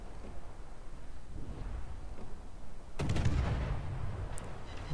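Destroyer naval guns fire in World of Warships, a sudden sharp burst of gunfire cutting in after a low ambient rumble, followed by a brief rolling tail and a faint later crack.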